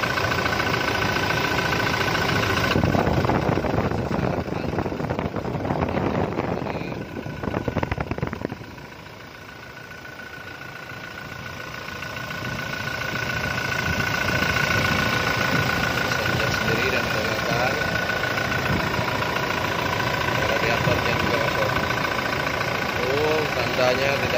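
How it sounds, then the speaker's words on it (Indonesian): A 2017 Toyota Innova V diesel engine idles close by with a continuous clattering hum. It is louder and rougher in the first seconds, dips briefly, then settles into a steady, even idle. "Saya perdengarkan suara mesin dieselnya."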